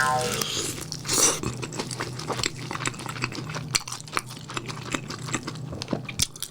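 Close, crisp crunching bites followed by repeated chewing, loud and near, with small crackles continuing throughout.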